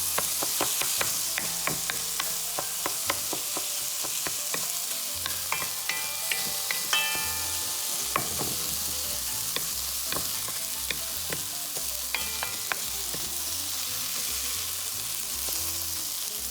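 Spanish creamy rice (arroz meloso) being stirred in a pan over high heat: a steady, close sizzle with frequent clicks and scrapes of the utensil against the pan, with no talking.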